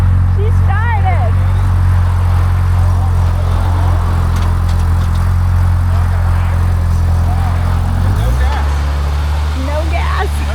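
A four-seater vehicle's engine idles with a deep, steady low rumble and hum, then shifts pitch and drops lower near the end, with faint talk and small clicks over it.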